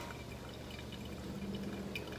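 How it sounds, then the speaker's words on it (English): Hot water trickles softly over coffee grounds during a manual brew, a faint, close liquid pour with light splashy texture and no talking. "I'm just pouring more rounds here"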